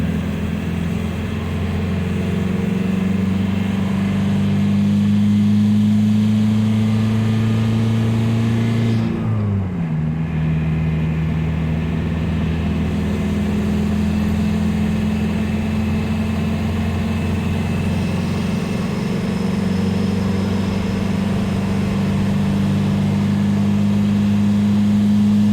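A diesel-swapped Toyota with a TDI engine pulls steadily up to speed while towing a car hauler, its low, loud drone rising in pitch, dipping once at a gear change, then droning on strongly.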